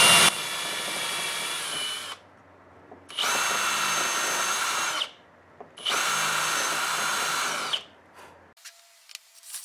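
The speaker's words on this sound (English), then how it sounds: "when I drill these I have to pilot them" A power drill whines loudly in three sustained bursts, each a few seconds long, separated by brief pauses, close and harsh as it bores pilot holes into wood for Windsor chair spindles.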